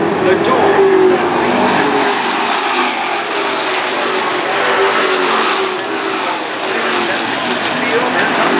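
Race cars, including car number 59 and car number 23, compete on a racetrack, their engines droning loudly and steadily throughout while a commentator talks over them.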